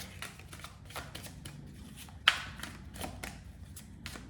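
A deck of grand tarot cards shuffled and drawn by hand, with a quick rhythmic series of soft riffling flicks and one sharper snap near the middle, close and quiet, with no voices.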